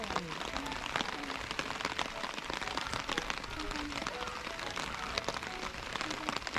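Steady rain falling at a fishing spot, a dense continuous hiss with scattered patters throughout, while people talk quietly under it.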